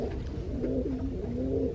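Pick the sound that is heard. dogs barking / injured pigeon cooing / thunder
injured pigeon cooing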